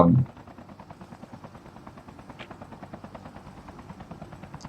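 Steady rhythmic rotor thump of a helicopter in a Call of Duty Mobile battle royale match, a moderate continuous chop throughout after a short initial burst.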